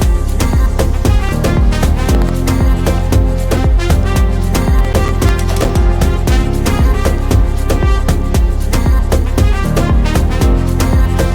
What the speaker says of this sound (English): then I added some trumpets